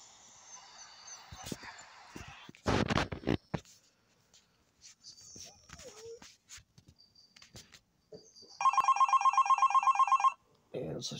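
Telephone ringing in the horror video game Nightmare in the Sewer, a rapid electronic trill lasting about two seconds near the end, after scattered clicks and thuds.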